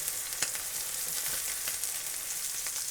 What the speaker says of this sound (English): Then we're going to let that steak cook for a couple minutes